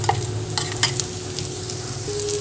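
Onion and tomato masala fries in a pan with a steady, close sizzle and occasional stirring scrapes, alone with no voices.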